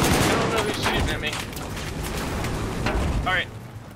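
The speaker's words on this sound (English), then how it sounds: "I don't know who's shooting at me." Rapid bursts of Battlefield 4 gunfire, dense overlapping shots and machine-gun rattle at close range, loud and continuous across the moment with a player's voice heard over it.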